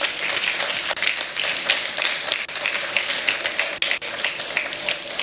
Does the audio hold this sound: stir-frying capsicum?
no